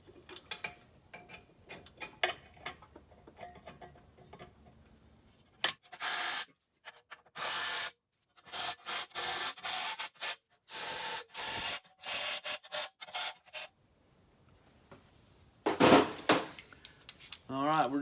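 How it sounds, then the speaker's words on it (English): A hand ratchet goes back over the nuts on an AEV diff skid plate of a Chevy ZR2 diesel, heard as bursts of close, rapid clicking strokes separated by short pauses, with faint voice at the end. "we're just going to go over those with the ratchet, make sure we're tight"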